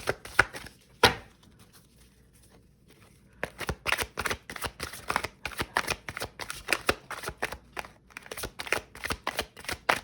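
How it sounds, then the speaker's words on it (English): Tarot cards shuffled and pulled by hand, a few crisp riffles at first, then after a pause a long run of quick, close rapid card flutters and slaps with no talking. "let's go ahead and pull 1 more card and see what the challenges are"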